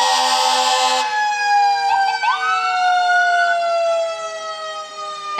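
A loud fire engine siren from the New London Fire Department wails steadily with harmonic tones during a parade, sweeping up in pitch partway through and continuing without pause.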